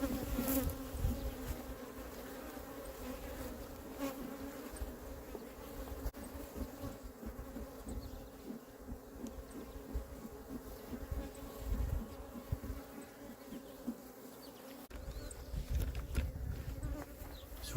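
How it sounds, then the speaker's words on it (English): Bees from a Flow Hive buzz close around a beekeeper, one circling persistently, their high droning whine steady and faint against low outdoor background. "This one bee won't leave me alone, it's just all over me."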